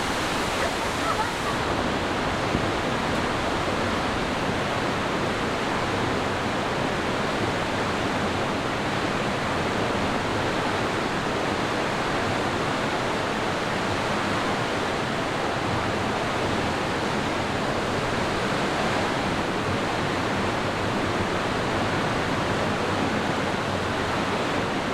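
Water pours and rushes continuously inside a cave near a beach in Switzerland, a loud, dense hiss of falling and splashing water that never lets up.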